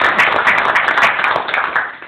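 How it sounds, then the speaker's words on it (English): An audience at a Rochester credit union event gives brief, close, fairly loud applause with individual claps audible, lasting about two seconds. "So again, round of applause for him."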